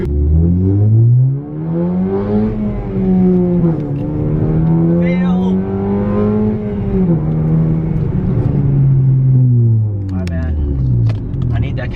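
A car engine freshly filled with Castrol EDGE oil revs loudly and up close during a drive, its pitch rising and falling in repeated sweeps, with a voice speaking briefly over it.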